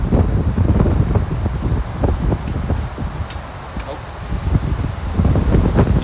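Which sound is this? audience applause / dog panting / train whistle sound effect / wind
wind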